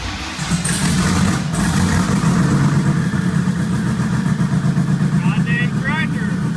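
A rough, chugging old tractor engine runs steadily and loudly throughout, with a low rumbling idle and brief higher whines near the end as it is given gas.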